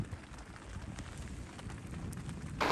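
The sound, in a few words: rain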